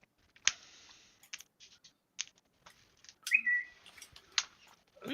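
An Apple phone gives a short, rising notification chirp much like a bird whistle. It is faint and brief, set among scattered light clicks and quiet room noise.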